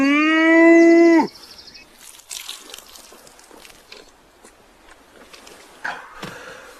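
A cow gives one loud, close moo lasting about a second, followed by quieter scattered rustling and dripping sounds with no talking.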